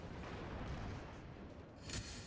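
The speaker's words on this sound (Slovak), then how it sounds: "že sekundárna výzbroj strieľa stále" Warship secondary guns firing in World of Warships, heard as a dense, muffled rumble of continuous distant gunfire with one brighter report near the end.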